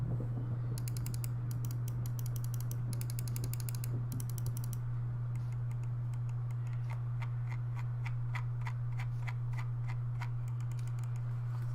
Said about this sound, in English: Okay, so left and right click.